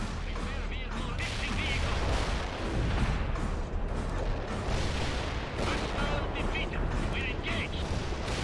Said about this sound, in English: Bomb deployed as ordered